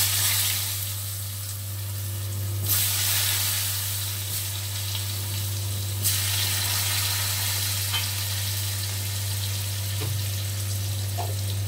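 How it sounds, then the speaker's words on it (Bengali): Potatoes with turmeric fry softly in a pan, a steady low sizzle over a constant hum, with a few faint scraping clicks. "হলুদ দিয়ে একটু আলুটাকে অল্প ফ্রাই করে নেব।"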